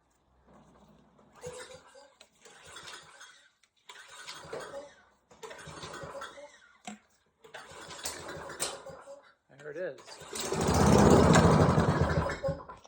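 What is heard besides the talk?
lawnmower small engine starting and idling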